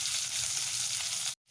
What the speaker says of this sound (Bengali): আর কিছুক্ষণ ধরে উল্টো পিঠটা একটু ভেজে নেব